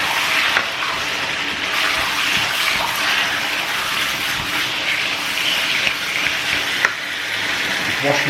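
Steady loud crackling sizzle of chicken frying in hot oil, continuous and close, with small pops and spatters throughout.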